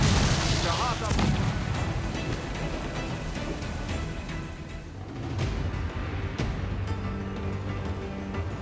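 Ship cannons fire in Assassin's Creed IV Black Flag, booming blasts at sea over waves and battle noise, with shouting voices mixed in.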